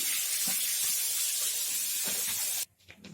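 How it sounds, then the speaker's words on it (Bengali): A steady, loud hiss of fish, a bata fish, frying in hot oil runs for over two seconds. It then cuts off abruptly, leaving faint clatter. "দেখুন তেল গরম হয়ে গেছে, আমি এখন মাছটা দিয়ে দিব। মাছটা আমি ভালো করে ভেজে নেব।"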